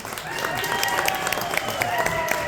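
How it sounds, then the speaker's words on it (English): A bar crowd at a brewery live music night claps for a performer coming to the stage, a dense continuous patter of hands with a few sharper claps, fairly close and loud. "Clap everybody to the floor."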